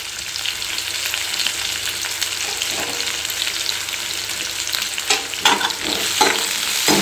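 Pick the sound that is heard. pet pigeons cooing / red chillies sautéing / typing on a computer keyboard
red chillies sautéing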